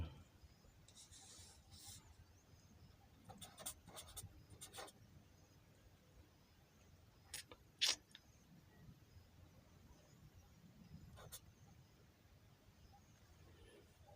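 Pen writing numbers on paper, scattered scratchy strokes in small bursts with pauses between them, close and fairly quiet over a faint background hum, with no talking.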